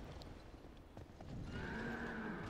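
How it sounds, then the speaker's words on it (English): A horse boss in Dark Souls 2 Scholar of the First Sin, heavy hoofbeats pounding followed by a drawn-out neigh, fairly quiet in the game mix. "Oh, a horse."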